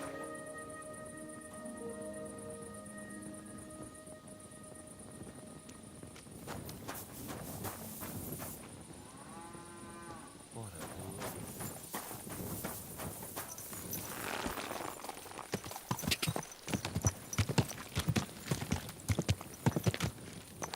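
Horse hooves clip-clop steadily in Kingdom Come Deliverance II, a walking rhythm that quickens toward the end, heard alongside game music and ambience, with no talk.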